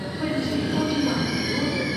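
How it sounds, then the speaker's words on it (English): Scarborough-bound passenger train rolling past a station platform in the evening, a steady close rumble with faint metallic squeal running through the whole moment. "Scarborough bound train of the night, 2030."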